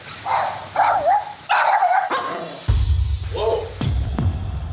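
A dog barks and yips in a loud, irregular burst of short calls, with people talking and shouting nearby over the commotion.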